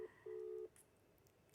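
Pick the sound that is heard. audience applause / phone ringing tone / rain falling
phone ringing tone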